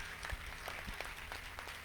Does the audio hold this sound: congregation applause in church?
yes